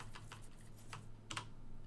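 War Chest board game coins are shuffled in a bag, giving a few quiet, separate clicking rattles spread over a soft, steady background hum.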